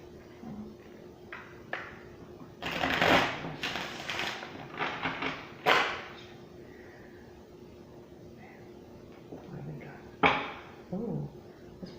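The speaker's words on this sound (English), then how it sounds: "Let's get another shuffle here." A tarot card deck is shuffled by hand at close range in a few brief riffling bursts separated by quiet gaps, soft and papery.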